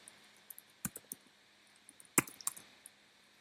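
Scattered keystrokes on a computer keyboard, a few sharp isolated taps and a short cluster of clicks, fairly faint and close in a quiet room with no voices.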